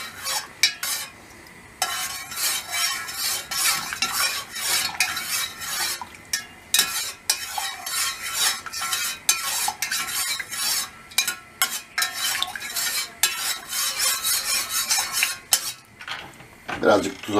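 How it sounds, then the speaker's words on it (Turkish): A spoon clatters and scrapes against a pan while tomato paste is stirred and spread, giving busy, close metallic clinks and scraping strokes that continue steadily for about seventeen seconds. "Bunun içine domates salçamızı atıyoruz. Şöyle bir güzel açıyoruz."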